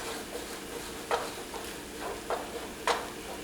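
Eggs frying in a pan for surf and turf fried rice give a soft, steady sizzle, with a few brief scraping stirs scattered through.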